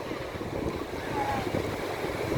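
Strong wind buffets the microphone at Rushikonda Beach, with a broad, steady roar of surf beneath it through the whole short stretch.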